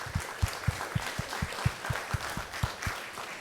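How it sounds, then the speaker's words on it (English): Applause at an elementary school town hall: a modest gathering claps, with a regular rhythm of individual claps standing out near the microphone over the softer crowd, steady and short. "So please give him a round of applause as well."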